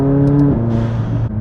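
A McLaren 570S in track mode revs hard, then shifts sharply, the engine tone dropping abruptly and continuing loud and close from inside the car.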